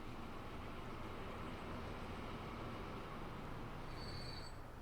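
A train rolls along steadily in Transport Fever 2, a continuous low rumble of wheels and carriages with a faint high squeal creeping in near the end, no talking.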